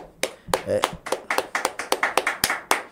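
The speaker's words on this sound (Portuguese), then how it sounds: "Ô louco, aplausos." A handful of people clap close by during a live stream, a quick, uneven run of sharp individual claps, with brief speech mixed in.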